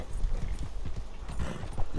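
Horse hooves clip-clopping in Red Dead Redemption 2, a steady run of close, fairly loud hoofbeats on the ground lasting the whole stretch, with no talk over them.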